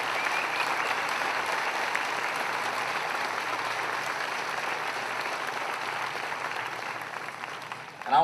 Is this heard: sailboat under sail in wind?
no